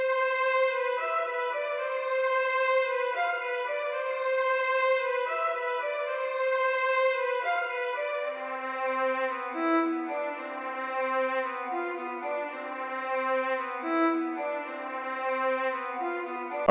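Layered cinematic cello strings in FL Studio play together: sustained bowed notes at first, then a lower cello line joins about halfway with stepping notes under the upper voices. The sound stays full and continuous, with no talking.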